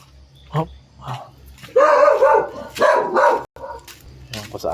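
A dog barks and yips outdoors at a garden work site in Tagaytay, giving a few sharp barks early and then a louder run of barking and whining while a person talks nearby.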